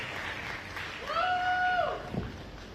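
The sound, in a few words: audience applause for panelists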